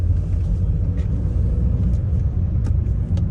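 A 2013 Audi A4 2.0 TDI with automatic gearbox in manual mode, heard from inside the cabin as a steady low engine and road rumble that holds evenly throughout, with no clear shift break.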